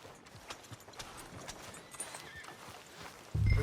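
Horse hooves clip-clopping on a street in Red Dead Redemption 2, a steady walking rhythm of faint, evenly spaced steps.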